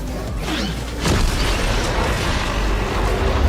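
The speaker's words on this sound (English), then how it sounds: "the Collider is already starting to be powered on" Fortnite's Collider laser cannon powering on in the video game, a dense, continuous roaring rumble with a low boom-like swell around the first second, sustained and loud with no talk.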